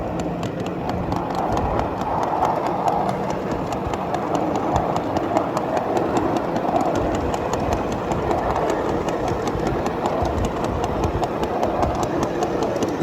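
Miniature ride-on freight train rolling along track, its wheel picking up a sappy pine needle; a steady, close rumble of wheels and running gear with faint rhythmic clicks, continuous and without talk.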